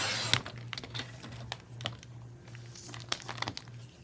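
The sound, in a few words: trimming paper off the end for a journal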